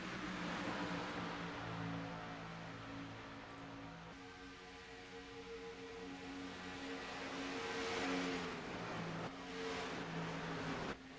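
Race cars circle a track, their engines forming a faint, continuous droning hum with steady harmonic tones that shift pitch as cars pass, gradually swelling and easing.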